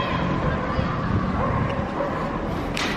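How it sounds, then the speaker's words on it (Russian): Dogs bark and yip amid a busy dog park, a steady crowd of sounds close and moderately loud, with people talking faintly in the background throughout. "В общем, собачки здесь бегают."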